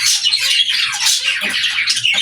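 A pet cockatiel squawks and chirps loudly and close by, harsh calls repeating in quick irregular bursts.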